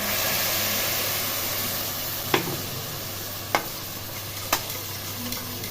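Chopped tomatoes and spice masala go into fried onions in a pan, giving a steady sizzling hiss with a low hum and a few sharp clicks of a spoon against the pan.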